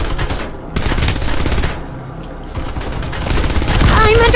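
Dense, continuous automatic gunfire and rapid shots from a team deathmatch in the video game Farlight 84, loud and layered with game effects and a voice calling out over it.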